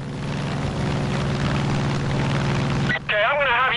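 A propeller plane flies in Far Cry 5, its engine a loud steady droning roar that holds throughout, briefly dipping near the end as a warbling tone joins in.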